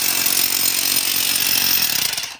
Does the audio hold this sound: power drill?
yes